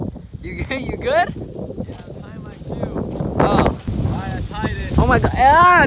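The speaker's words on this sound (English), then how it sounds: "Oh my god, it's windy!" Gusty wind buffets the microphone outdoors, a rough low roar rising and falling under excited talking voices.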